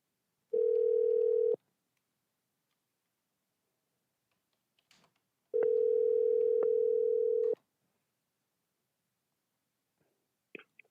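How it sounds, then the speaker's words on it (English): Ringback tone of an outgoing telephone call, two clear steady rings about a second and two seconds long separated by silence, with faint clicks between and after. "We're going to call again to see if curiosity gets him to pick up."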